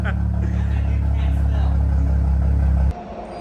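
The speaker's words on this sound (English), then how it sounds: "The car drives and sounds amazing." BMW X3 with N55 engine and a catted high-flow downpipe, its exhaust giving a deep, loud steady rumble that cuts off abruptly near the end.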